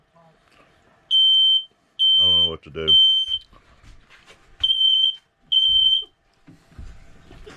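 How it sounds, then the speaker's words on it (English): Loud, shrill electronic beeps from a smoke alarm at a campground sound in short bursts, with a person speaking between them. "this is what it sounds like when the smoke detector's going off"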